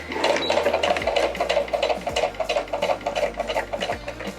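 Sewing machine stitching with dark thread: a loud, steady rapid mechanical whir with a fast rhythmic needle chatter and periodic low thumps, running continuously and close up with no voices.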